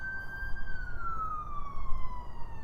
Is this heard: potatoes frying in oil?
no